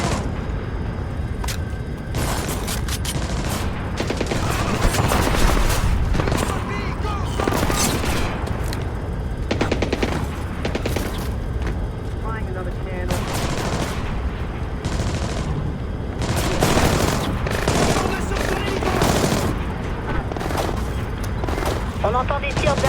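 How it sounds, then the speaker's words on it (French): Bursts of small-arms gunfire ring out in Splinter Cell Blacklist, near and loud, repeated across the stretch. A voice speaks intermittently over the shooting. "On entend des tirs d'armes légères dans le terminal, Sam."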